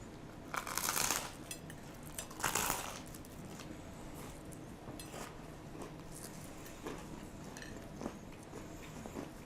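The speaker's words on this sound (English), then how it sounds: "Listen to the crunch." Crisp crunching bites into toasted bread with caramelized melted cheese and Ro-Tel Xtra Hot ghost pepper tomatoes, two loud bites early on followed by quieter close chewing, with no talking.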